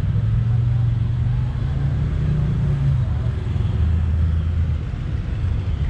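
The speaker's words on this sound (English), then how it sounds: "This sucker is race ready with a blown big block with dual quads." A race-ready drag car with a blown big block engine and dual quads, rumbling at idle with a deep steady loping growl, close and loud, with faint background chatter.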